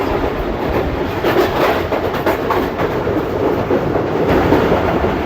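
The Tezgam passenger train runs along the rails, heard from on board as a loud, continuous rumble with rhythmic clickety-clack of wheels over track joints and no voices.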